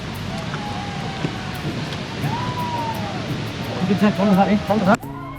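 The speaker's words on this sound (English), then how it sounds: "Massive streams of water flowing between giant dark rocks" Steady, broad rushing water roars throughout, loud and continuous, from Hogenakkal Falls streaming between giant dark rocks, with faint tonal sounds and voices mixed in near the end.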